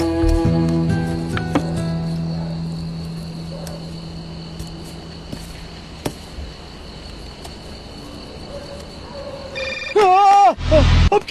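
A telephone rings with bright, warbling electronic tones, followed by a loud burst near the end, set against steady background hum.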